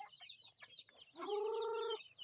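A chicken clucks nearby in a short burst, ending in a drawn-out squawk, against faint outdoor background noise.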